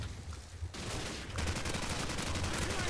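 Gunfire in the video game Call of Duty 4: dense bursts of rapid automatic fire crackle continuously, rising after a brief quieter start, with no talk.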